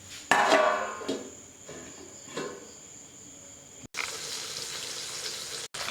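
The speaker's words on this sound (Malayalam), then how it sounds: "നമ്മുടെ നാടൻ മത്തിക്കറി ഏകദേശം തിളച്ച് പൈവത്തിലായി വരികയാണ്" Sardine curry boiling in a covered pan, a soft continuous bubbling and sizzle with faint clinks, steady and close but fairly quiet.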